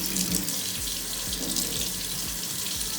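Warm water runs steadily from a kitchen tap into a sink, a close, continuous splashing rush with no voices over it.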